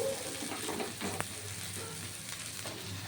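Potatoes dropped into hot oil with bay leaves, a faint, steady sizzle with light stirring and a brief clink.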